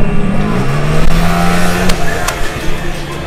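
Abarth-tuned Mini Cooper race cars roar around a circuit at Vallelunga, engines droning and shifting pitch as they pass at a distance, loud and continuous under crowd-like ambient noise.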